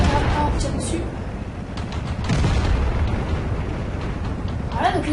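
Tank cannon shots and explosions from the World of Tanks video game, heavy booming blasts layered over a continuous rumbling battle din, with a voice speaking beneath them.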